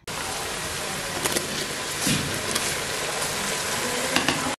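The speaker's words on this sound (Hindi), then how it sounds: "और फ्राई कर लेंगे नरम होने तक इसको फ्राई करेंगे" Onions and tomatoes frying in a pan for mutton keema make a dense, loud sizzle close up, broken by a few scraping stirs and clatters, with no one speaking.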